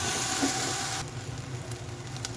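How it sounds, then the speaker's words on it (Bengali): Ginger and garlic paste frying in oil for a fish curry with papaya, a loud dense sizzle that drops suddenly to a quieter crackle with faint scrapes, no talk. "আদা রসুন ভেজে নিয়ে একটুখানি দিব, এরকম করে ভেজে নিতে হবে।"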